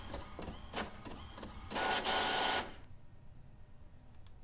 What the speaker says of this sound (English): Alright, and then there's the printer.